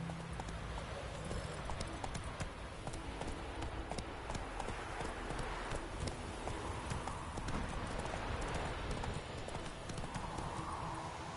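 Roach the horse in The Witcher 3: Wild Hunt trots with rapid, continuous clip-clopping hooves, fairly close and steady, with a faint whinny and game ambience; no speech.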